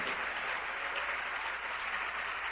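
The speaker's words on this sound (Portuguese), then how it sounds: "Vamos aplaudir o Senhor Jesus por cada vida que está chegando." A church congregation applauds during a Brazilian evangelical service, with continuous, even clapping throughout, fairly distant and soft.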